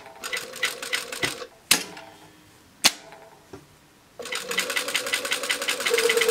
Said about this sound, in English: sew over it a couple of times, do a backstitch, and then start from there